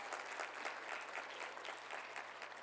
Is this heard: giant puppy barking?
no